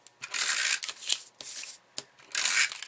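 A Tombow tape runner rolls adhesive across paper for a paper-pieced card. Three close, scratchy rolling strokes separated by brief clicks and pauses, with no talking.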